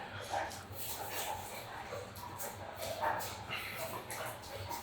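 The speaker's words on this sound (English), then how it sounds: "The dogs are starting to play" Indoor dogs at play make scattered soft yips, whimpers and short barks at moderate distance over a low background hum.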